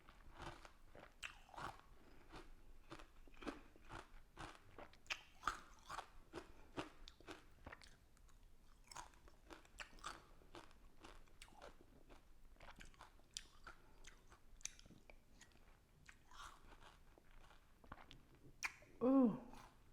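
Someone eating a big spoonful of Korean coffee bingsu shaved ice, with soft close crunching and chewing bites repeating at an irregular pace, faint and intimate, followed by a brief vocal murmur at the end.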